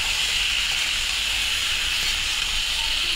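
Cut pointed gourd, potato and tomato fry in a pan with turmeric and salt, making a loud, continuous hissing sizzle with no breaks.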